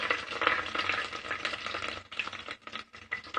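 Garlic sizzles and crackles in hot oil with fried chillies, steady frying noise and occasional stirring scrapes, close up, while making mutton curry.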